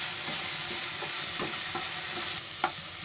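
Spiced tempering for palak paneer sizzles steadily in a hot pan, a continuous close crackling hiss with soft scraping stirs and one sharper clink near the end.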